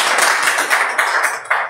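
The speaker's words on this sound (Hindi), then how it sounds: "ताली" A gathering of people clapping, a close, steady patter of many hands with irregular accents, continuous through the whole short stretch without speech.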